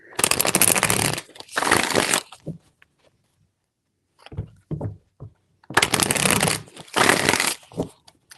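Tarot cards are shuffled close up in several quick, rustling bursts, separated by a silent pause before two more bursts of riffling.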